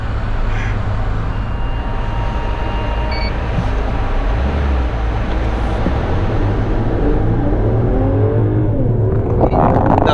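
A 2018 Mercedes-Benz CLS 450 roars loudly under full kick-down acceleration in comfort mode, a steady heavy rumble building toward the end with a rising tone.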